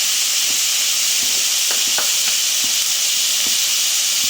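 Plain noodles sautéing in a pan with salt, a loud continuous sizzle and hiss with faint scraping stirs throughout.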